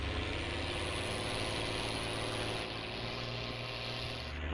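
A Valmet 118 tractor engine in Farming Simulator drones steadily and loudly with no pauses, its hum changing slightly toward the end.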